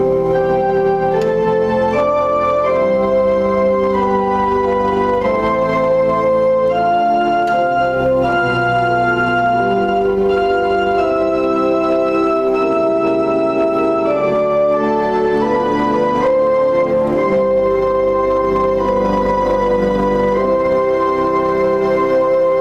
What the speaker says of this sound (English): With the Vox Humana wiggling its way, we can get this kind of a sound.